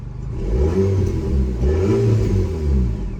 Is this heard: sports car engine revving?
yes